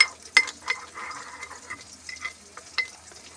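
A spoon stirs a spice mixture for soyabean do pyaza in a bowl, producing soft scraping and clinking strokes in an irregular rhythm, with a sharper tap near the start, close and fairly quiet.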